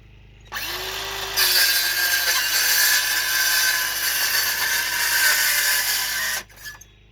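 A weak battery-powered tool cutting through used pallet wood, a close, loud buzzing whine that starts, rises to full strength, holds for several seconds, then stops abruptly.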